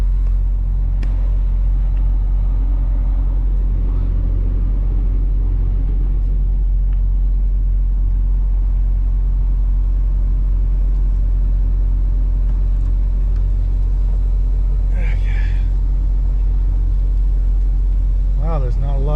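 A truck engine rumbles steadily at close range as the rig drives onto a weigh scale, with a loud continuous low drone, a brief higher squeal near the end, and faint talk underneath.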